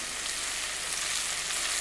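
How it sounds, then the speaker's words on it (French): Butter sizzles steadily in a hot frying pan with pork chops, a continuous dense crackling hiss that stays close and even throughout with no talking. "on doit toujours entendre ce petit bruit-là de grésillement que fait le beurre"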